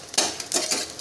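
Red chillies, ginger and garlic sautéing in a pan, with a few quick scraping stirs and light clinks of a spoon against the pan over a soft sizzle.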